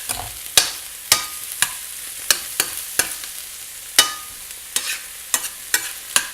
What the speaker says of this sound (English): Okay, stir that up.